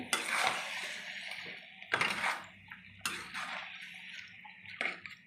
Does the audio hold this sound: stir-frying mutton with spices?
yes